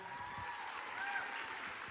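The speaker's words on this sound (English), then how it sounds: "Give them a nice round of applause." An audience at a dance scholarship event applauds in a steady, even wash of clapping that holds throughout the brief moment, fairly faint and distant.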